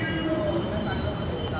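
A metro train pulls into an empty underground station in India, giving a steady close rumble with faint wheel squeal and a continuous roar of moderate loudness.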